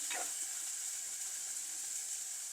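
Chopped onion and ginger-garlic paste fry in a pan, giving a faint, even hiss of sizzling that carries on alone without any talk.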